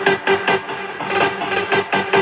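Variation of a big room EDM drop from FL Studio using the same synth layers in a different rhythm, heard as loud bright stabs in a choppy syncopated pattern with no voices.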